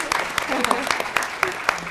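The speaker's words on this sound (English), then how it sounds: "I'd also like us to have a round of applause for all the twin sisters and family members in the audience" Audience applause after a call to honour twin sisters, parents and family members at a Champions of Change awards event, a sparse scatter of claps rising and falling over faint murmuring in the hall.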